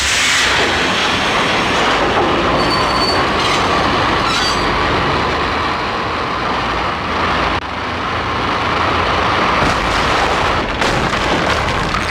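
A train in the Max Payne video game roars past loud and close, a dense continuous rumble of rail wagons with occasional wheel squeals and rattling clatter.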